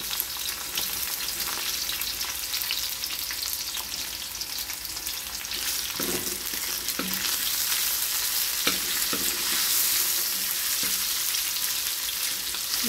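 Garlic and onion sauté in oil in a pan, a steady close sizzle running throughout with a few brief stirring clatters and scrapes, no one talking.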